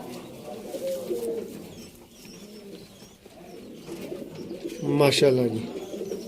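Pigeons at a pigeon-keeping loft in Sialkot coo softly in low, throaty bursts, with a louder close coo near the end, while someone talks over them.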